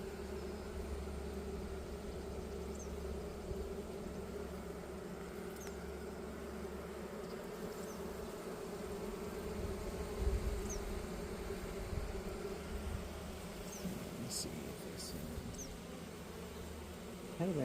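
A crowd of honeybees drones inside an open beehive, a constant close buzz that holds level throughout with a few brief louder passes of single bees near the end.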